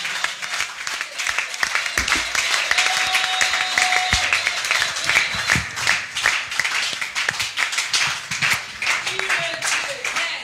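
A church congregation applauds and cheers for the Lord during a French-language service, sustained clapping from many people throughout, with occasional shouts and voices mixed in.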